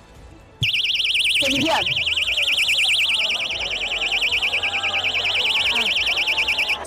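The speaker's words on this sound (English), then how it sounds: "We're gonna use this personal alarm as a shout." A handheld personal safety alarm shrieks after its pull string is yanked, a loud, continuous warbling siren that starts abruptly and holds steady, with a person briefly talking over it.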